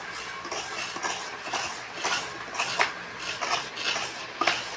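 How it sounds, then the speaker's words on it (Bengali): Coconut being hand-grated for nadu sweets, a steady scraping and rasping at close range with irregular louder strokes and faint kitchen clatter, no voices. "এবার দেখো আমি নারকোল কোড়াচ্ছি।"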